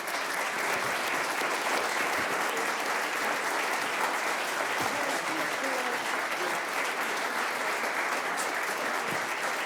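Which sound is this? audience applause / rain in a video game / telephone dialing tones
audience applause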